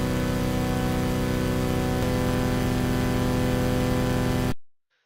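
Darker synth melody for a Friday Night Funkin' song, pitched down an octave, playing dense and steady with a sustained, buzzy tone before cutting off abruptly near the end.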